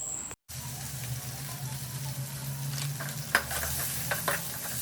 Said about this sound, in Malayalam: അതിൽ കടുക് പൊട്ടിച്ച് ചുവന്നുള്ളി, വെളുത്തുള്ളി, പച്ചമുളക്, ജീരകം ഇതൊക്കെ ചതച്ചിട്ട് വെളിച്ചെണ്ണയിലിട്ടു